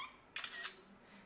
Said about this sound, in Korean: 이 위치에 찰칵이라는 효과음이 나오겠죠?